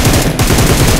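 Gunfire in the mobile battle-royale game BGMI: a loud, rapid automatic burst of shots in a steady rhythm that fills the whole second, with no voices.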